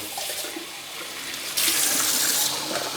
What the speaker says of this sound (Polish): No trzeba je zalać wodą.